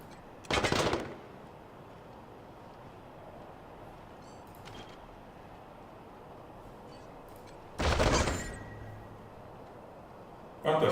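Gunfire in Wasteland 3: two loud, close bursts of shots about seven seconds apart, with a third starting at the very end, over a low steady background hum.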